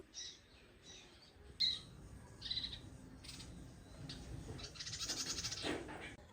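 A mother bird returning to her chick gives a few short, faint, high chirps at intervals over a quiet outdoor background.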